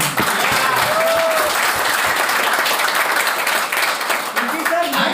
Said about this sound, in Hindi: एक बार जोरदार क्लैपिंग।